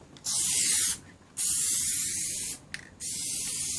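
PlastiDip rubber coating hisses loudly from a spray can in three sustained bursts, each about a second long and separated by short pauses. It is close up with no talking.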